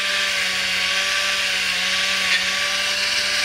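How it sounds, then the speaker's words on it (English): A wire wheel spins on a Dremel, scrubbing corrosion off a Stihl MS440 chainsaw crankcase, giving a loud, steady high-pitched whine with gritty abrasive hiss throughout. "Let's quickly hit the corrosion here while it's easiest to get to. Just a wire wheel on my Dremel."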